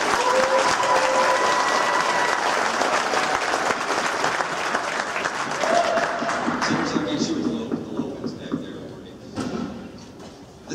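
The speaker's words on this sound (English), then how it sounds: "How about another hand for our woodwind section?" Audience applauds a high school marching band's woodwind section at a 2014 season event, a steady broad wash of clapping that swells, then thins and fades near the end as a voice speaks over it.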